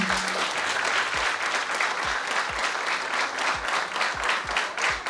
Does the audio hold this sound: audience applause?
yes